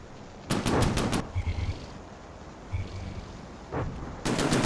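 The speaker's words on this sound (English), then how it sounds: "The autocannon still gamely firing away" An autocannon firing in a video game, with two loud bursts of rapid shots, one at the start and one at the end, and fainter rumble and thuds between them.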